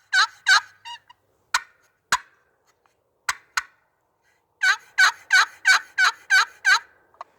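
A turkey call imitates a hen turkey's cuts and excited yelp: a few sharp, sparse clucking cuts followed by a fast run of seven loud, close, raspy yelps in quick succession, with no other sound behind it.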